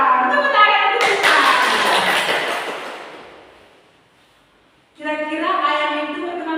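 A classroom of children claps for a classmate in a brisk burst of scattered hand claps lasting a couple of seconds and fading out. Voices can be heard talking before the clapping and again after it.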